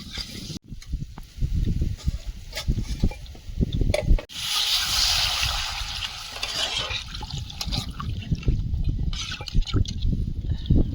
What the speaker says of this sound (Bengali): আর একটু কষিয়ে নিয়েছি এবারে জল দিয়ে দেবো